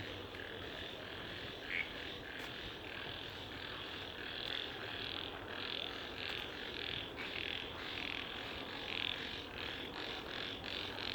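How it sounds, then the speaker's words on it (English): Evening frogs or toads near Marina Bay Sands keep up a soft, continuous chorus of rhythmic croaks and chirrups, fairly distant and quiet, with a faint hum of distant traffic or aircraft beneath. "They are frogs, I believe, or maybe toads."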